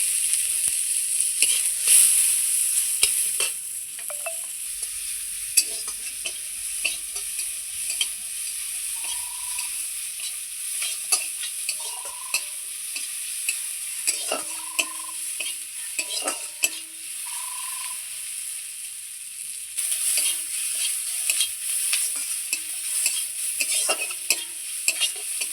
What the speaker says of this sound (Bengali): এইবার আমি ভেজে নেব ওই তেলেই পেঁয়াজ।